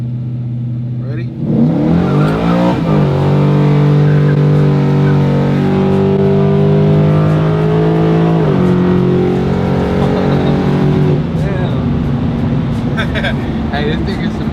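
A Chevrolet Silverado truck accelerates hard from a rolling start, its engine note climbing steadily through the gears, loud and close throughout, with a brief shift dip midway before pulling again.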